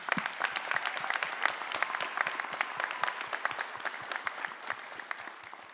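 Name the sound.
applause at a high school graduation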